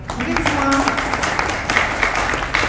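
An audience at a UOB Painting of the Year art competition outreach event breaks into applause, a dense spread of clapping with some crowd murmur and a voice over it.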